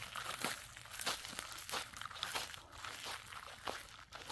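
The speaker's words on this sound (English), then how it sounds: "got a lot of dead dry weeds on the ground, so my shoes are crunching on it" Footsteps crunch steadily through dry, brittle weeds, a close crackling rustle with each step at a walking pace.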